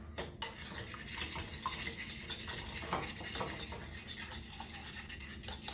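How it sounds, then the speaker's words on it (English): A utensil scrapes and clinks against a pot while eggs are stirred and the pot is shifted around, with soft frying underneath, a close, uneven run of light metallic taps and scrapes without speech. "with my eggs, I'm kind of stirring them around, moving the pot around"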